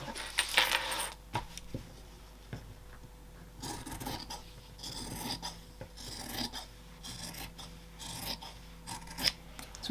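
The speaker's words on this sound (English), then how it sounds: "So we're trimming the bottom and we're trimming the sides as well." Scissors trimming the fabric edges of a crossbody bag's lower pocket, with scattered close snips and rasping cuts, some louder bursts, and no speech.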